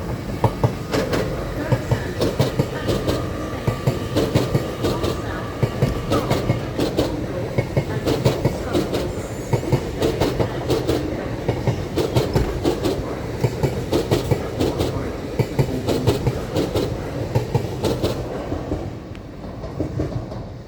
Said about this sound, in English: This train has 10 coaches for the 1542 Northern service to Scunthorpe